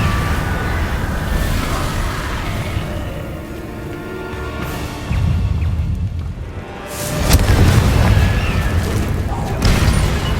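Blasting spell explosions in the Hogwarts Legacy video game, with dense, loud booming and rumbling bursts, a surge near the middle and another heavy blast toward the end, layered over continuous game noise.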